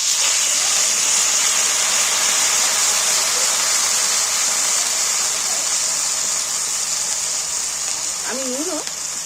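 Chilli and turmeric sizzle in a hot pan after a little water is poured in: a loud, steady hiss that stays constant, with a brief voice near the end.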